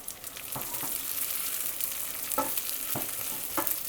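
Onions frying in plenty of oil in a pan for a bulgur and lentil mjeddarah, giving a steady broad sizzle with a few short stirring scrapes and knocks, with nobody talking.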